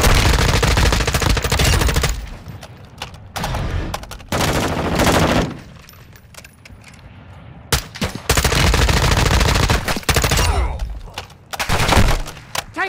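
Loud bursts of automatic gunfire from Call of Duty Modern Warfare II DMZ, rapid fire in several long volleys with short quieter gaps between them, filling most of the stretch.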